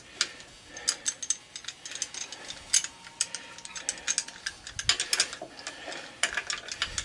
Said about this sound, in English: we'll see if we can get on it with a pipe wrench